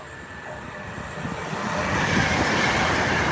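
A TransPennine Express train passing close by, a rumbling roar with rail noise that swells steadily louder over a few seconds.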